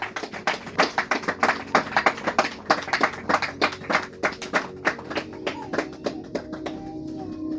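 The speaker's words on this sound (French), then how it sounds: "we applaud" A congregation claps together in a church during worship, with many rapid overlapping hand claps at a steady, lively rhythm, close and fairly loud, continuing without voices over it.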